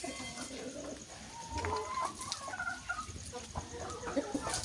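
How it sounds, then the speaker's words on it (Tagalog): Chickens and young chicks cluck and peep around a backyard farm with banana trees, a busy mix of close clucks and chirps with no talking. "At ang sisiw ko dito"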